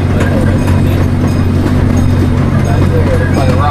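Tulsa Zoo ride train rumbles along steadily with a low engine drone and faint rattling, loud and continuous, while speech is picked up in the mix.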